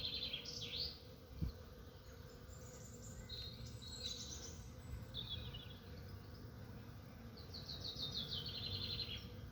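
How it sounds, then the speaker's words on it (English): Worker bees buzz around buttercup-like flowers in a park, a steady low insect drone under outdoor ambience, with birds chirping intermittently in the background. "See all the worker bees on this one."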